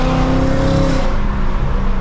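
A 2024 Ford Mustang GT S650 base model with a 10-speed automatic runs loud and close, its engine a steady throaty drone with a strong low rumble and harmonic whine, holding nearly constant throughout.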